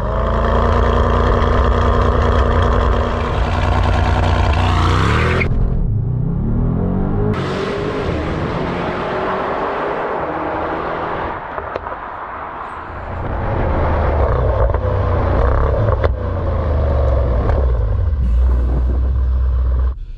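A powerful sports car engine roars loudly in launch control, revs rise and fall, then it surges again with a deep rumble, close and continuous.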